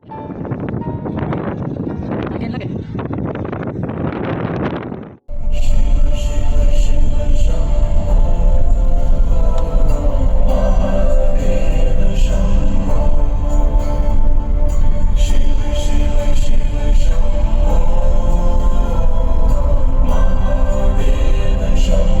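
Strong wind at the seashore buffets the microphone in a loud, continuous roar that starts abruptly after a brief quieter stretch of muffled noise and keeps going without a break.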